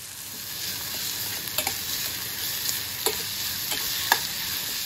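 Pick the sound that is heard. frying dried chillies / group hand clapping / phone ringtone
frying dried chillies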